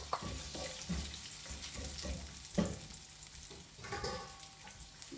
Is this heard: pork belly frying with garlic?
yes